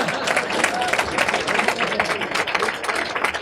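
Audience applause from people seated in an overflow area at a book event, dense steady clapping from a sizeable crowd filling the whole stretch with no pauses.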